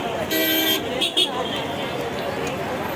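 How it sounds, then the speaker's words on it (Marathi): Congested street traffic in a jam, with a long car horn toot near the start and a couple of shorter honks later over a steady roadway rumble; a voice talks under the traffic noise. "हे बघा इथं पण ट्रॅफिक आहे."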